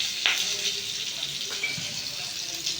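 A little water poured into frying mustard and poppy seed masala for a hilsa curry, a soft splashing gush over steady close sizzle with a couple of clinks.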